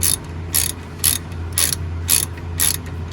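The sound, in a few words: wrench removing brake caliper sliding pin on a 2005 Mini Cooper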